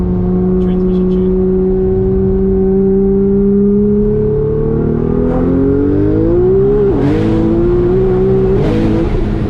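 A 1500-horsepower Nissan R35 GT-R street car pulls hard through two gears at fairly low revs, its loud engine note climbing steadily, dipping at a shift around midway, then rising again, with voices faintly under it.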